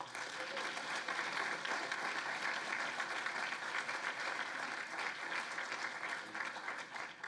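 A university engineering awards ceremony audience applauds the humanities nominees with a continuous, even wash of many hands clapping, heard fairly faint and from some distance for several seconds.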